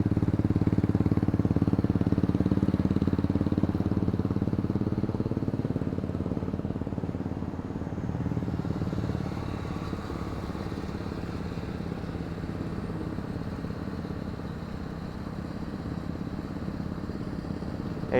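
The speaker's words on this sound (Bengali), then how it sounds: "এইটা সব বাইকার্সরা যাচ্ছে দেখতে পাচ্ছি আমরা।" Motorcycle engines drone steadily as bikers ride past on an Independence Day rider awareness campaign ride, loudest at first and then easing into a fainter, continuous hum.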